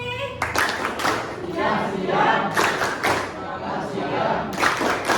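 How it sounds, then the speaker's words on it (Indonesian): A class of schoolchildren performs a rhythmic group clapping cheer, bursts of unison claps mixed with shouted voices in a lively, roomy classroom. "Yuk kita sama-sama tepuk semangat happy"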